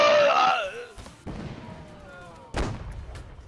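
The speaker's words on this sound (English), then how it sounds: "Rocket artillery coming in" Rocket artillery barrage in the game Holdfast: a loud whooshing screech opens, then booming impacts land at intervals, with a rumbling tail between blasts.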